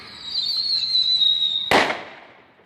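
A single firework goes off: a long whistling rise, then one sharp loud bang that fades into a decaying rumble, heard outdoors with no talk.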